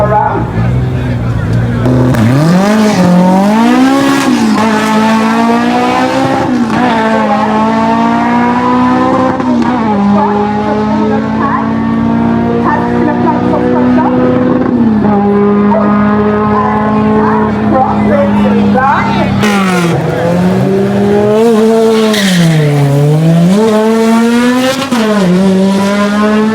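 A race car runs a pro lap at a car racing event in Jamaica, its loud engine revving and climbing through repeated shifts, rising and falling pitch as it accelerates and brakes through corners, with crowd chatter and talk underneath.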